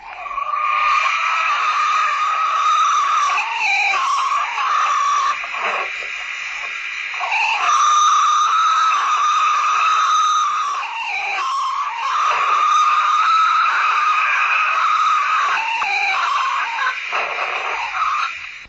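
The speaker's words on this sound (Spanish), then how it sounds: "fue la primera gran grabación de un Bigfoot que se había conseguido en sonido" Alleged Bigfoot calls picked up in a forest by a police patrol car's ambient microphone: long, loud, wavering howls and screams repeating almost without pause, harsh and distorted against near silence.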